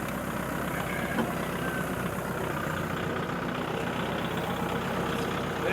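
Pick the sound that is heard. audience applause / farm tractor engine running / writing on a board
farm tractor engine running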